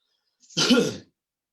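A single short, raspy throat clearing, close to the microphone, bursting out of silence and fading within half a second.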